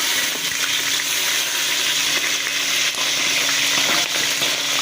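Onions frying in hot oil with whole spices for chicken dum biryani, a loud, steady close-up sizzle and crackle throughout, with no voice.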